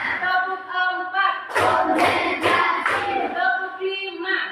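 A classroom group claps hands in a counted rhythm, four sharp broadband bursts in steady succession cutting through a sustained musical tone, close and loud.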